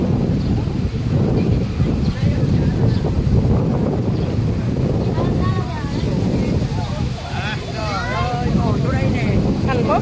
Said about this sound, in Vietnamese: Gió quá. Trời thì gió.